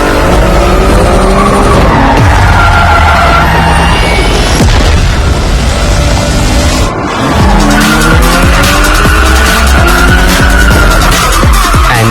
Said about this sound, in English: In drift mode, the M4 competition will not stop you from turning your expensive pilot sports into smoke